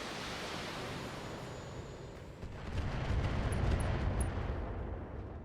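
A BattleTech mech takes a barrage of area-of-effect LRM missiles and turret fire, a continuous roaring rumble of blasts that swells louder about halfway through, with no talking.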